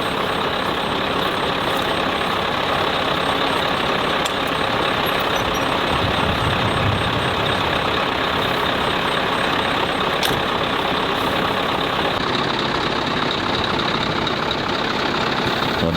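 A truck rumbles steadily in the open at the back of a plot where a kitchen garden is being set up, its heavy engine loud and continuous throughout while it dumps a load of material, with no talk.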